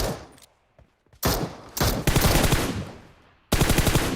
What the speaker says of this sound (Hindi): मतलब कतई बगैर रुके गोली चलाई इन पे।